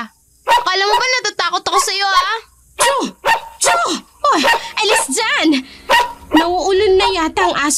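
A dog barks angrily in sharp bursts throughout, mixed with near, steady talk and shouting from people in a tense confrontation.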